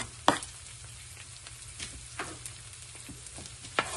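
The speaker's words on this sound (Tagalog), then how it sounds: "Pababrown lang natin yung bawang." Garlic fries in a pan with a quiet, steady crackling sizzle, punctuated by a few sharp clicks and taps of cooking utensils.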